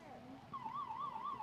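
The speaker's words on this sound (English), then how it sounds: "siren sounds and marking the end of the first quarter." A siren marks the end of a quarter at a boys' JV lacrosse game, a short wavering electronic wail that rises and warbles over faint background noise, brief but clear.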